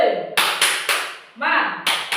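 A primary school class does a rhythmic clap chant, sharp bursts of hand claps landing in quick grouped beats with young voices chanting between them, close and lively.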